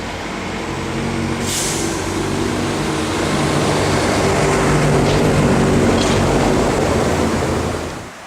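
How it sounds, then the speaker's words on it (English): Trucks pass on a busy road near Alston on the Pennine Way in England, a loud, close, swelling roar of tyres and engines with a brief air-brake hiss early on, fading sharply at the end. "I've left the busy road that had quite a few trucks on"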